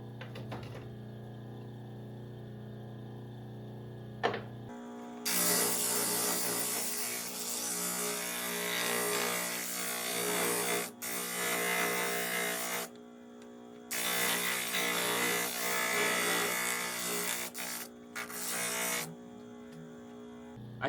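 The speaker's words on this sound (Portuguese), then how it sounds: "Vou usar uma lixa nesse formato aqui para poder acertar." Sandpaper rubbed against a wooden part in a workshop, a dense, loud rasping in long continuous strokes with short pauses between passes, close up and without talk.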